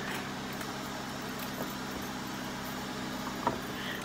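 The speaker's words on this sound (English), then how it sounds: "Sorry for the background noise, laundry days." A steady mechanical hum with a low rumble runs throughout from laundry machines running in another room, with a few faint clicks over it.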